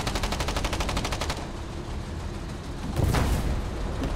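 Rapid automatic gunfire in the video game Foxhole, aimed at an enemy bunker: a dense, loud rattling burst for over a second, then a rumbling lull and a heavier blast with low booming roar.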